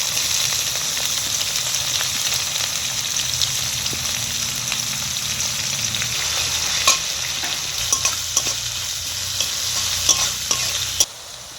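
Chopped onion and green chilli are tossed into hot oil already holding bay leaf, dried chilli, cinnamon and cardamom. A loud, steady sizzle runs throughout, with clinks and scrapes from stirring in the second half.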